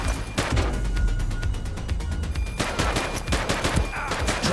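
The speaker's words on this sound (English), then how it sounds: "She's shooting." Gunfire in the police video game The Precinct, a rapid volley of loud, close shots in a fast rhythm that briefly thins, then resumes with heavy, dense bursts and no talking.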